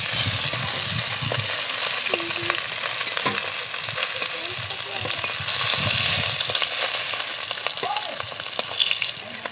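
Kajoli fish fillets fry in hot oil in a pan with a steady, close, continuous sizzle and crackle that holds at an even level throughout.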